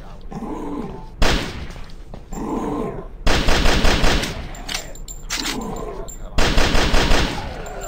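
Gunfire in the zombie shooter game Zombies In City crackles in repeated loud bursts of rapid automatic fire, broken by short quieter gaps of game ambience.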